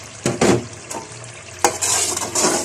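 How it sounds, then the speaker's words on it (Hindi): Slit whole green chillies fry with peas in a pan, with a gentle sizzle and uneven scrapes and knocks of a spoon against the pan, loud and close, no speech. "अब इसमें साबुत सब्ज़ मिर्च डालूंगी जो कि दरमियान से कटी हुई है।"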